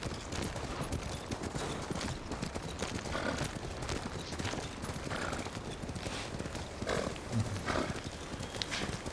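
A horse gallops in the video game Ghost of Tsushima while being ridden through the game's snowy northern region, with fast, steady, loud hoofbeats running the whole time and no talking.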